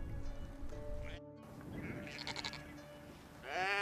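Sheep on a windswept island farm bleat repeatedly as the flock rushes toward a feeder, several calls overlapping close by over a steady background of wind and movement.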